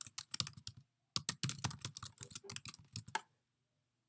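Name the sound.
typing on a computer keyboard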